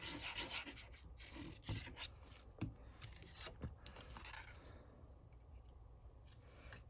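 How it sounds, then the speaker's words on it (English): Close, soft rubbing and scraping strokes as a glued paper card layer is burnished smooth on a handmade notecard, coming in short repeated passes that fade toward the end. "Burnish it so it's nice and smooth."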